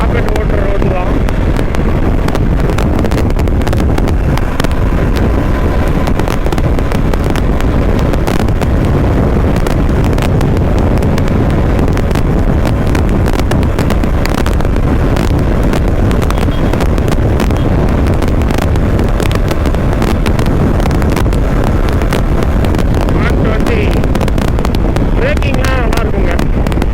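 A modified Hero Xpulse 200 motorcycle with a two-valve carburetted engine rides along a road at speed. Its continuous engine drone is largely buried under loud, constant wind buffeting on the microphone.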